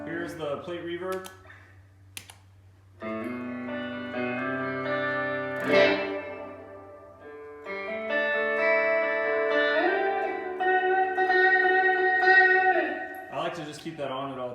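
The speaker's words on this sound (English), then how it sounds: "Here's the plate reverb." Clean electric guitar chords bloom into a lush plate reverb, notes sustaining and washing out smoothly between a few strummed phrases.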